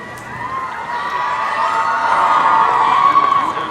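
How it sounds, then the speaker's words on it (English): A high school audience cheers during a valedictorian speech, a broad crowd roar with shouting voices that swells steadily and stays loud and distant-sounding throughout. "people are cheering after like one of your statements"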